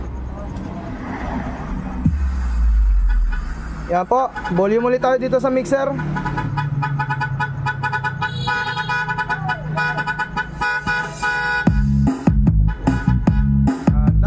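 Loud DJ remix horn track blasting through an Audio Master T3000 amplifier setup, sharp honking horn blasts and tonal stabs over heavy bass, with someone talking over the start.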